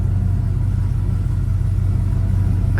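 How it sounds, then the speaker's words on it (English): Pickup truck engine rumbling as it pulls out: a heavy, steady low idle with an even pulsing throb, close and continuous, with no talking. "Let me try to pull this truck out, I guess."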